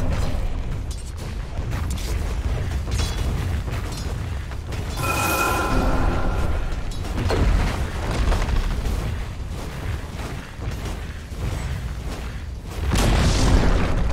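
A tower collapsing in Dota 2 produces a sustained, heavy rumbling roar of booms and crumbling debris, a steady loud mass lasting many seconds with a brighter burst midway and a surge near the end.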